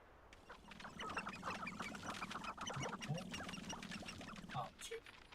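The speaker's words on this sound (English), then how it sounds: "Oh, chicken." A chicken clucks in a Hogwarts video game, a busy run of short, faint bird calls mixed with game ambience while a person talks over it.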